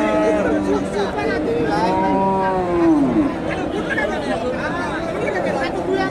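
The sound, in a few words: cows mooing at a cattle market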